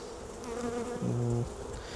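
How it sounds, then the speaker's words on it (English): Honeybees buzz around an open hive during an inspection in an apiary, a close, steady droning hum that swells as a few bees pass near. "I'm just going to shake the bees off now"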